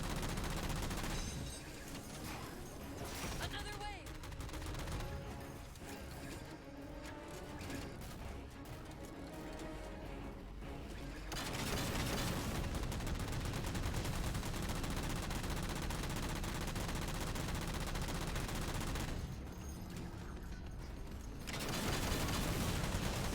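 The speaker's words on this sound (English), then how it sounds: "the grunts were using a gun turret" Gun turret firing in Halo, long stretches of rapid, dense automatic fire, fairly faint, continuing with brief pauses across the whole stretch.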